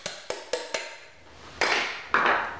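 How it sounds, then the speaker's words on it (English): Hammer lightly tapping a screwdriver to pop the top off a washing machine transmission: four crisp metallic taps in a row, a pause, then scraping, rattling metal handling noise up close. "use a screwdriver and tap lightly with a hammer"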